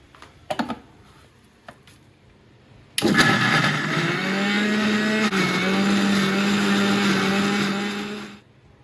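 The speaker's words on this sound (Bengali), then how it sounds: "এখন এটাকে ব্লেন্ডারে ব্লেন্ড করব।" An electric blender whirs loudly for several seconds, grinding a savoury mix of onion, green chilli, salt, chaat masala and yogurt, after a few light clicks and taps at the start.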